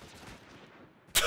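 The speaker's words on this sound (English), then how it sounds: "I love the fact that there are guns in this game" A single sharp, loud gun blast in the video game Final Fantasy XIV cuts in suddenly at the end, following a soft, murmuring game background.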